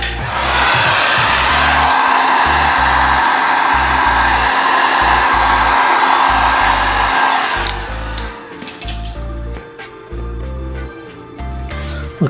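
A heat gun blows steadily and loudly up close while warming vinyl wrap on a motorcycle, a continuous airy roar that drops in level near the end with some handling noises.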